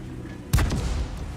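A single sharp cannon blast from a tank in the World of Tanks video game, a sudden heavy boom with a short rumbling tail.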